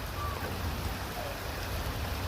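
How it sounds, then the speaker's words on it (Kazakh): Cold rain falling steadily in a village, a soft continuous hiss of drops at moderate distance with no voices, lasting a couple of seconds. "Өтіп барады мына жауын, салқын жауын."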